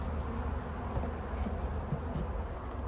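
Honey bees buzz at a hive in January, a soft, steady drone of many insects close by with occasional louder passes, with no talk.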